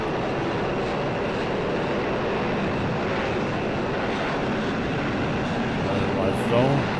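A steady, broadband roar from an airplane engine heard from outside the aircraft in a flight simulator game, continuous and loud with little variation, filling the whole stretch.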